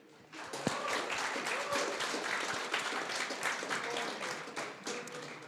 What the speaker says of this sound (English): a big applause and thank you to all the partners